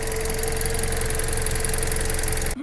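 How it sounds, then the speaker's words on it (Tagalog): A car engine with sludge from water inside and overdue oil changes idles steadily with a low, even hum and faint mechanical ticking, cutting off abruptly near the end. "maganda pa kasi yung tunog ng makina"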